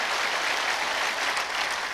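Church congregation applauding during a Korean evening worship service, a dense steady wash of many hands clapping together at a moderate distance, with no voices rising above it for the whole stretch.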